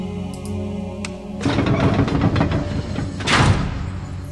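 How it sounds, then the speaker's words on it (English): Elevator doors slide open in the Zork Nemesis video game, a loud thudding mechanical rumble that starts abruptly and rolls on for several seconds, swelling again toward the end, with no talk over it. "See, that's an elevator."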